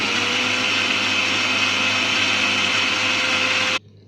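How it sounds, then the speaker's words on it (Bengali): A kitchen blender whirs steadily at high speed while blending homemade mayonnaise ingredients, a loud continuous motor drone that cuts off abruptly near the end. "আমি সমস্ত উপকরণ দিয়ে 1 মিনিটের মতো আমি ব্লেন্ড করে নিব।"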